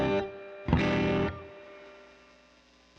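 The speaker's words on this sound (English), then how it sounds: "Still a lot of reverb somewhere." Electric guitar played through Logic Pro with a reverb effect and distortion: a short chord, then a louder strummed chord that rings out and decays into a long reverberant tail, with no talking.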